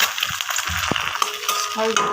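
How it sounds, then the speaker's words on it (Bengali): An egg frying slowly in a little white oil in a pan, a steady crackling sizzle with a few sharp clinks and scrapes of a utensil, close by and with no one talking. "অল্প করে সাদা তেল দিয়ে আমি ডিমটা ভেজে নেবো।"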